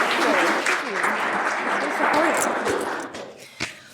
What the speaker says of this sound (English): Big round of applause for everyone up